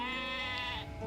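A sheep in a cozy baking video game gives one long, wavering bleat that sounds close and clear and slides downward at the end.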